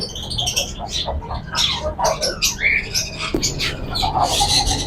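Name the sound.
blue pied fancy birds calling in a bird shop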